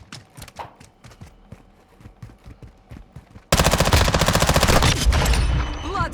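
Submachine gun fire in the video game Call of Duty Modern Warfare II, sparse single shots and thuds giving way to a loud sustained rapid burst of automatic fire, close and dense.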